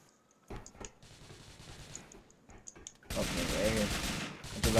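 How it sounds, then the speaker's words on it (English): GTA IV police gunfire crackles in rapid bursts of automatic shots, sparse at first and then building into a dense, sustained volley, with no one speaking. "Cops are shooting. I'm getting shot by police."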